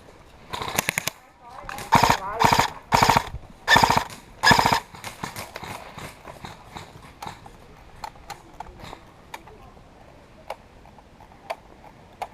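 Sharp airsoft BB gun shots crack in quick bursts, loud and near at first, then thin out into scattered single pops further off, with faint talk among the players in the background.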